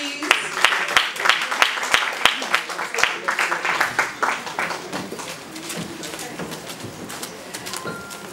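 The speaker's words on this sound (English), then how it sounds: "Round of applause, please." Applause from an audience at an awards ceremony for a career woman of the year prize: dense clapping with sharp individual claps, loud at first and tapering off toward the end, with some voices in the mix.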